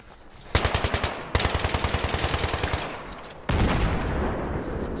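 Automatic L85A2 rifle fire in the video game Battlefield 3 sounds in two fast, evenly spaced bursts of loud close shots, followed by a sustained roaring wash of gunfire and ambient noise.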